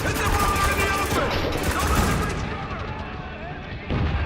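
Dense video game gunfire rattles in rapid overlapping bursts and booms amid a battle with soldiers, loud and close, with game voices shouting over the shooting.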